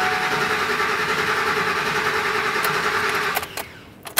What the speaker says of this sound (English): Put the key in the ignition and crank the engine over